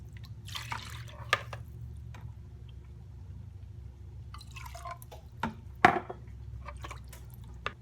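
Water trickles and drips into a nearly empty tomato paste can, faint splashes with a few sharper plinks scattered over a quiet background.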